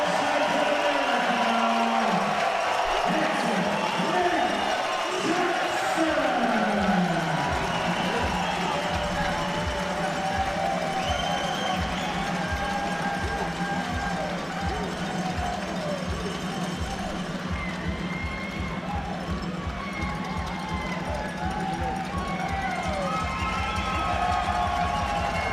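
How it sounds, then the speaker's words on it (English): American crowd at a freestyle wrestling World Cup final in Coralville cheering and roaring after a winning takedown, a loud sustained arena din under an excited commentator's voice. "Brings the American crowd to their feet."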